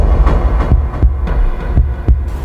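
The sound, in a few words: heartbeat sound effect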